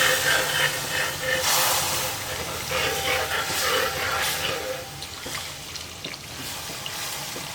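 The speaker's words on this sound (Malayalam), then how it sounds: "നമുക്ക് ഇതിലേക്ക് തിളപ്പിച്ച് വെച്ചിരിക്കുന്ന പാലും വെള്ളവും ഒഴിച്ചു കൊടുക്കാം" Boiled milk and water poured onto heated dates in a pan for aval (beaten rice) dates payasam, giving a loud, steady steaming hiss and sizzle throughout.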